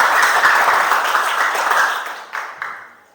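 Applause for a student during a classroom lesson, a dense patter of clapping that runs steadily for about two seconds, then thins out into a few scattered claps and fades.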